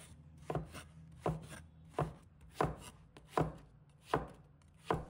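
A knife chops bottle gourd into strips on a cutting board, seven crisp, evenly spaced strokes ringing out close and alone over a faint steady hum.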